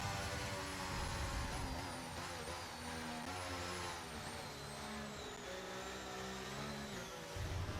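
Race car in a racing video game spinning its rear tires, a continuous loud engine roar with shifting whine and tire noise sustained for several seconds, no voices over it.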